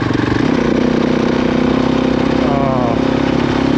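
A motorbike rides through sandy forest terrain, its engine droning loudly and steadily at a mid-pitched hum throughout, close and continuous with no pauses.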